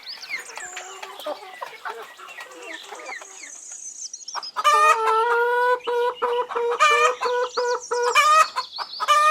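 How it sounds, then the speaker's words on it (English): Farmyard hen clucking in a rapid, chattering series, then breaking into loud, drawn-out cackles with a few pauses, close and clear with no voices. "Hen."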